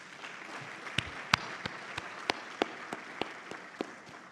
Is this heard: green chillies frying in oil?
no